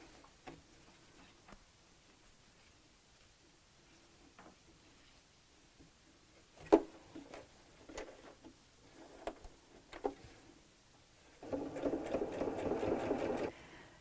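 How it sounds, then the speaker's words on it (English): Sewing machine stitching around the edge of a fabric baby nest: scattered ticks and clicks of the fabric being positioned, then a steady whirring run of stitching near the end, close and fairly loud. "Start at that centre point and sew all the way around."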